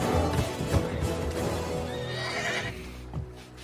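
A giant horse stuck in a swamp neighs loudly and close, a long strained whinny with pitch sweeps over some splashing movement, no talk.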